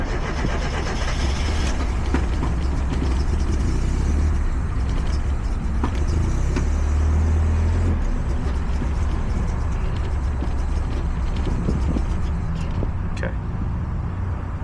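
A Mazda Miata NA6 engine running lean idles roughly and struggles to stay running, a loud continuous rumble that wavers unevenly throughout, with no talk.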